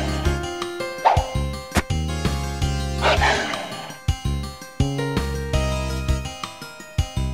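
Dogs bark and yip in the video game Breath of Fire 3, a loud run of repeated sharp barks with jingling sounds among them, close and continuous.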